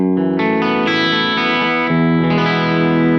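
An electric guitar on its bridge pickup runs through an Engl Retro Tube 100 valve amp, with several strummed chords ringing out in a row, mildly overdriven and loud, with no talking.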